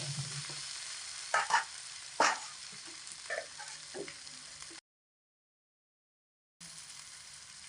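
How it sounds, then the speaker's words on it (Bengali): Steady sizzling of potatoes frying in a pan, broken by a few scraping strokes of a spatula stirring, with a short silent gap. "এবার খুন্তি দিয়ে সবজি আলুগুলোকে এরকম ঘন ঘন তাড়াতাড়া করে ভেজে নেব"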